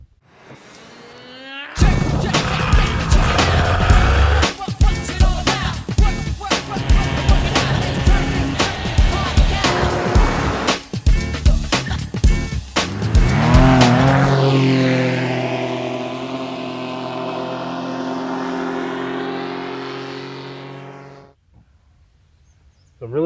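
A Sky Engines Boxer 220s paramotor engine starts and runs close by, a loud rough roar with choppy revving, then a smooth rising whine as the throttle opens before it cuts off abruptly.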